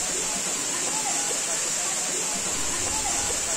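Waterfalls and natural pools in Tolima where people bathe, heard as a loud, steady roar of falling water filling the whole soundscape without a break.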